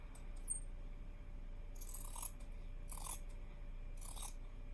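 Steel scissors snip apart small sewn fabric squares for a quilting project, making three brief, quiet cuts spaced about a second apart over a faint steady background hum.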